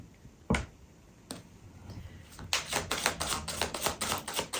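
Tarot cards are shuffled by hand, starting with a couple of isolated snaps and then building into a quick, steady run of crisp riffling flicks, close and moderately loud.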